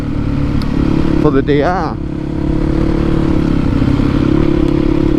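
A Yamaha WR450F motorcycle idles with a loud, deep, steady exhaust note through a Dominator exhaust fitted with a new baffle, briefly revved once near the middle, with a voice speaking over the engine.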